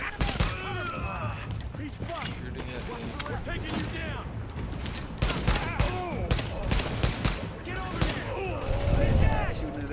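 Gunfire in a PS4 shooter game, rapid bursts of shots and fusillades with mechanical clatter over about ten seconds, loud and dense, with in-game radio voices speaking over it.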